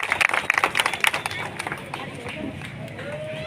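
A crowd at a political rally bursts into dense applause that lasts about a second and a half, then fades into a low murmur with a voice speaking.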